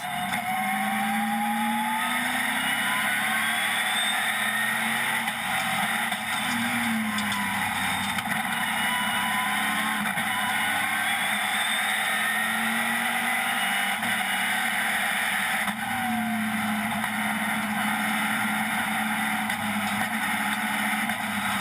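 Euro NASCAR race cars lap Brands Hatch with a continuous loud V8 roar, engines rising and falling in pitch as cars pass and shift, with no pause across the stretch.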